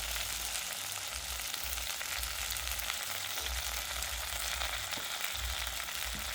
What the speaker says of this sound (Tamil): முருங்கைக்காயெல்லாம் நல்லா பொரிஞ்சு வந்துட்டுது. இந்த எண்ணெயில் நல்ல வடிவாக அவிஞ்சு வந்துட்டுது.